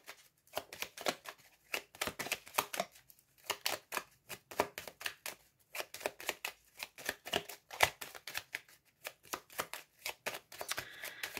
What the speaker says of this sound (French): on va recouvrir également la carte de la faux